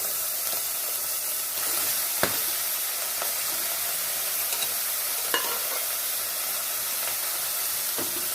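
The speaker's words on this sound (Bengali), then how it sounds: "মাংসগুলোকে একটু ভেজে নিই, একটু কষানো হয়ে গেলে" Mutton pieces fry in a pan with a loud, steady sizzling hiss, broken now and then by a faint tap or scrape of stirring.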